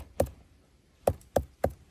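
Four hollow knocks on a cabbage head in a garden, one alone followed by a quick run of three, crisp and close with quiet between.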